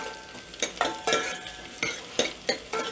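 A spatula scrapes and stirs through onions sizzling in a pan, with soft rhythmic scraping strokes over a steady frying hiss, close up.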